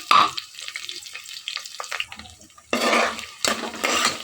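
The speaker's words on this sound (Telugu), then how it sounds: "ఇలా మొత్తం అన్ని బాగా ఫ్రై చేసుకోవాలి." Onions, green chillies and curry leaves fry in a pan, heard as clattering utensil scrapes and stirring with intermittent bursts of sizzle, close and moderately loud.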